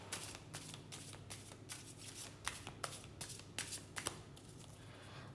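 A deck of cards is shuffled close by in a quiet room, giving repeated quick riffling bursts, about a dozen crisp fluttering rattles in an even rhythm.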